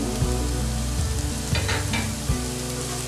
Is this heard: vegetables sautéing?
yes